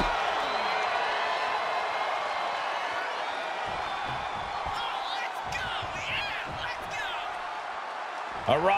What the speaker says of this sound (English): A raucous SmackDown crowd, they came to see the action.